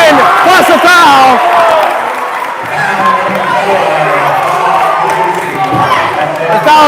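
A basketball crowd at a boys' varsity senior night game erupts after a foul, a loud roar of cheering and clapping that settles into sustained noise under an announcer's voice.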